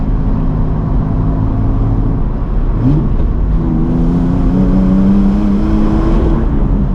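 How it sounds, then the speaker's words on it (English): A Ford Falcon EF XR6 straight-six engine droning loud and close, revving up and settling with a smooth, steady hum. "the one redeeming feature this car does have is its noise. It sounds, you know, not too bad for a straight six"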